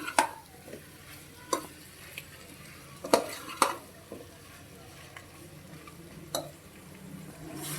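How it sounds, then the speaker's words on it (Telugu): Potato curry with paneer is stirred in a pan: a soft simmering sizzle underlies sharp, irregular spoon scrapes and knocks against the metal, heard close. "బాగా కలపాలి"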